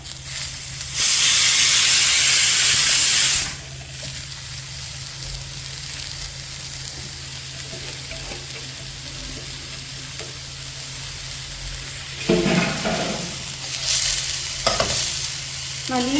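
Chopped papaya stir-fried in a hot pan for papaya thoran: a loud burst of hissing sizzle as it hits the oil settles into steady frying, with spatula scrapes and renewed sizzles near the end, up close.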